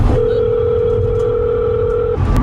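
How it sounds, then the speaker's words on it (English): Telephone dial tone as an outgoing call is placed: a single steady, loud tone holding for about two seconds alone before it cuts off. "I made a few phone calls"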